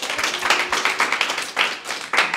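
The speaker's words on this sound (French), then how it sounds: "on peut l'encourager, l'applaudir et te remercier" Audience applauding at a coaching talk, a burst of sparse, uneven hand claps standing alone at moderate loudness with no speech over it.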